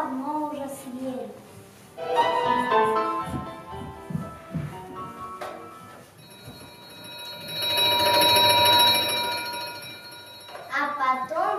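A telephone rings as a sound effect within a recited Russian children's poem, Chukovsky's "Telephone": a sustained ringing tone lasting several seconds, set between stretches of spoken narration.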